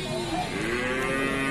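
A young bull at the Pasar Wage livestock market in Bumiayu moos in a steady, drawn-out call. It sounds close and fairly loud over busy market background noise, with no talk.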